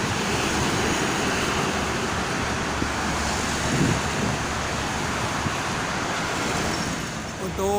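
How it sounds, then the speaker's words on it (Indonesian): Steady, strong wind roaring continuously beside the Jakarta–Cikampek toll road, a broad rushing noise, loud throughout with no clear pauses. "Anginnya cukup lumayan kencang."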